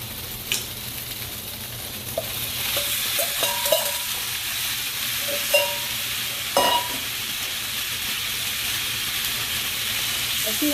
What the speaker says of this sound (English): now I'm going to add the onions and peppers back